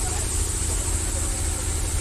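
A generator powering a market sound system runs steadily nearby, a constant low, throbbing engine drone with an even, pulsing rhythm and no breaks.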